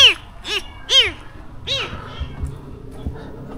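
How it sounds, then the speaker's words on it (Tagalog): A cat in a cemetery gives four clear, close meows in quick succession, each rising and then falling in pitch, followed by faint background rustling. "Palagi sumusunod yung pusa sa akin"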